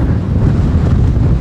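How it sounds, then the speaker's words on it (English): Strong gusting wind buffets the microphone on an exposed cliff top high above the ground, a loud, continuous low roar with no voices. "The wind's got to be gusting up to probably about 50 miles an hour."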